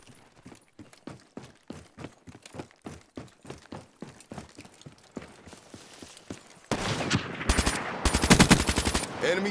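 Rapid gunfire from the video game Call of Duty Black Ops 3, a run of evenly spaced single shots followed by a louder, denser burst of automatic fire near the end.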